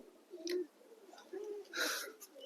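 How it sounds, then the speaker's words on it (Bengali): Pigeons coo at a loft in a few soft, low, throaty bursts, with some brief rustling in between, heard quietly and at moderate distance. "আর এই যে পায়রাগুলো সব উঠছে"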